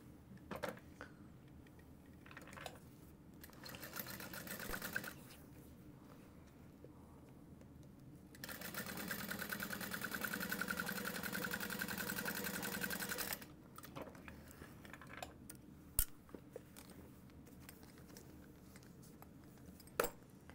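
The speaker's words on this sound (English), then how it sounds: "now we're going to sew the side seams" A sewing machine stitches the side seams of a garment in short bursts, then runs steadily for several seconds, with quiet handling clicks and fabric rustle between runs.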